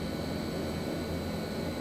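Steady, even drone of the twin turboprop engines of a Hawker HS748 in the Prepar3D flight simulator, cruising on autopilot over New Zealand's North Island, a constant hum with no other sounds.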